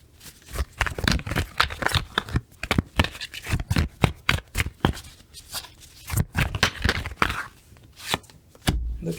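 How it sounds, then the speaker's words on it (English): Playing cards being shuffled during a card game, a dense run of quick riffling and shuffling bursts with short pauses, close and fairly loud, with no talking. "For those of y'all who like to hear the shuffle"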